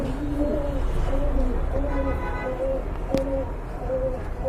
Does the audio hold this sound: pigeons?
yes